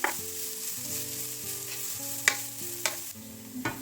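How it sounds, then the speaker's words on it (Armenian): Carrots fry in a pan with a steady soft sizzle while a utensil stirs and scrapes them in several sharp clinks and knocks, close by and without talk, with background music quietly underneath. "Այսպես ու ավելացնում եմ գազարը։ Սա էլ եմ մի քանի րոպե տապակում։"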